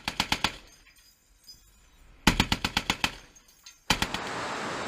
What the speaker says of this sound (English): They fire 50 caliber rounds at a rapid rate.